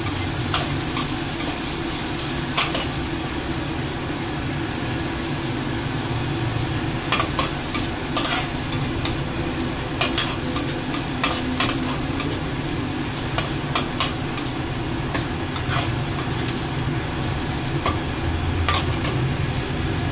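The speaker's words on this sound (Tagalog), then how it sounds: "So mag-fry na tayo ng chopped onion and then chopped garlic." Chopped onion and garlic fry in a pan for a beef satay spaghetti sauce, giving a steady close sizzle throughout with intermittent clicks and scrapes of stirring.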